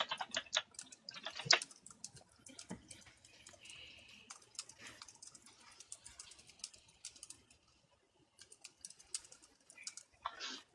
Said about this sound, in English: I'm typing in a thing for it.